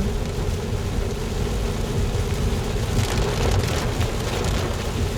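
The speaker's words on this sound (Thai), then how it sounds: "ฝน ฝน ฝน" Steady heavy rain pours down on a drive home, a dense continuous patter on surfaces with no voices.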